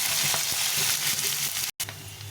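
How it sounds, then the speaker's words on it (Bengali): Onions fry in a pan with spices such as cinnamon and cardamom, giving a dense, steady sizzle close up that cuts out for a moment before resuming. "এই পেঁয়াজটা দিয়ে দেবো। দিয়ে ভালো করে ভেজে দেবো।"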